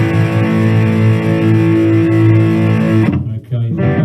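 Heavily distorted electric guitar plays a sustained power chord for three seconds, loud and close, then stops abruptly and a short rough strum follows, in a rock song.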